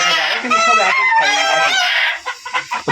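Fayoumi chickens and roosters on a village farm cluck and crow loudly and close, a dense chorus of overlapping calls that thins into short clucks, with someone talking.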